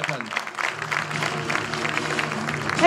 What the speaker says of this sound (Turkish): alkışlarla Çilem Duman da ödülünü sevgili Cengiz Han Kaya'nın elinden alacak